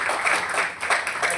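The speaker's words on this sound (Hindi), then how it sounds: "जोरदार तालियां" Brief burst of crowd clapping at a seminar award ceremony, a busy wash of hands rising and dipping slightly over little more than a second.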